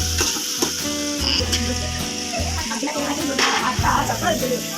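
Chicken curry sizzling in a pan as it is stirred round and round, a continuous close frying hiss with occasional scrapes of the spoon.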